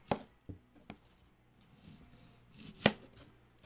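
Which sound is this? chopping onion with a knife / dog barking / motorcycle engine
chopping onion with a knife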